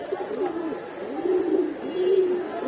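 Pigeons at a loft coo in repeated low, rolling phrases, three or four swells across the stretch, fairly close and steady against a faint outdoor background with no talking.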